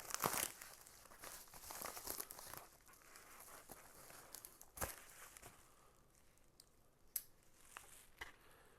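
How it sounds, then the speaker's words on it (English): An Asher Knives Kudo slices open and tears into a package, with close crinkling and ripping of the wrapping, loudest at first and then dropping to sparser rustles and a few sharp snaps. "This is an Asher Knives Kudo I'm using to open up this this package that we got here."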